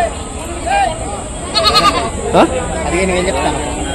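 Goats and sheep bleat now and then amid a busy livestock market at Rajarampalli in Telangana, one short sharp bleat standing out near the middle over constant crowd chatter and background noise.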